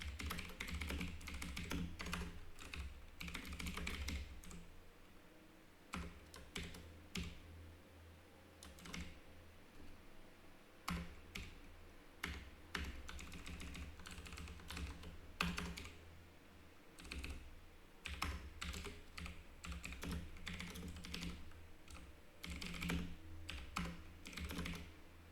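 Steady computer keyboard typing while code is written for a compiler REPL, a long run of close, crisp key clicks in irregular bursts with brief pauses and no talking.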